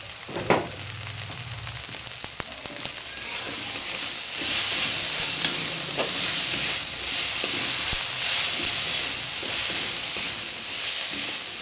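Spices fried in oil for a Bengali prawn curry sizzle with a steady hiss that swells louder midway, with a few stirring scrapes and taps close by and no talking.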